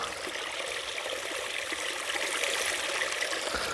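Tap water is poured out of a bottle in a continuous steady splashing trickle, close and fairly soft, with no talking.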